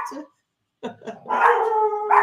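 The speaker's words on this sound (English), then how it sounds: "Well, they sound like dogs." Dogs barking in a short burst of sharp yaps followed by a longer, drawn-out howling bark, fairly close and loud, after a brief pause of silence.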